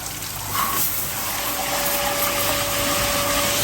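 A koi pond pump starts up and drains water from the pond, a steady watery gush with a faint mechanical hum running continuously at moderate level from about half a second in.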